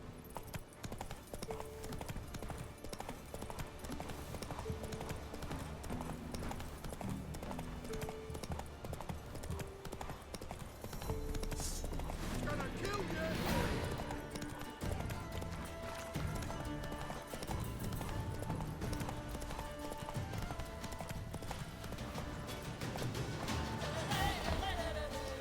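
Horse hooves trotting steadily in The Witcher 3: Wild Hunt, a continuous clip-clop under game ambience with an occasional whinny, and no one talks.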